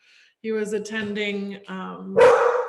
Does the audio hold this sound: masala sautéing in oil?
no